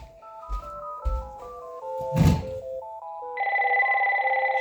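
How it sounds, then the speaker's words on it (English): A telephone rings with a trilling electronic tone, following a few soft taps and a short rising melody, clear and fairly close. "the phone's ringing, but I'm not going to answer it"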